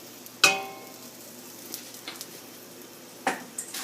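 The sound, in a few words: mixing kadhi pakoda mixture with asafoetida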